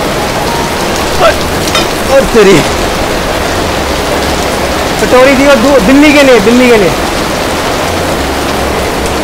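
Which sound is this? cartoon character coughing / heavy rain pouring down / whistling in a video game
heavy rain pouring down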